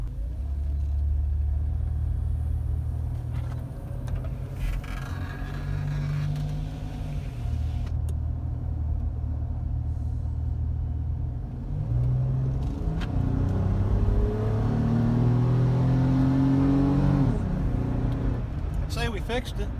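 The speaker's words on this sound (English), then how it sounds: "That was about a 3/4 throttle acceleration." A 2007 Chrysler Town & Country minivan, in for a lack-of-power fault, accelerates at about three-quarter throttle on a road test, giving a steady, loud low engine and road rumble from inside the cabin, with people talking over it.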